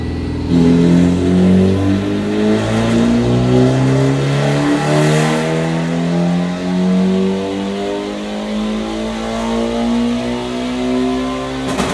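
A Mitsubishi Evo 10 engine revs up steadily through its range on a dyno, pitch climbing in repeated gear-like sweeps, loud and close with a droning exhaust note.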